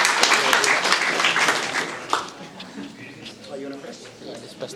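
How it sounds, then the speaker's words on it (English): An audience at a startup pitch night claps for a presenter, the applause loudest at first and fading within a few seconds as voices and stage chatter take over. "Round of applause for Ritesh."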